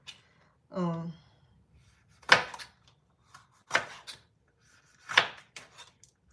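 Bell peppers, red and yellow, being chopped with a knife for a chicken liver and gizzard stir-fry: three separate bursts of cutting roughly a second and a half apart, preceded by a brief vocal sound.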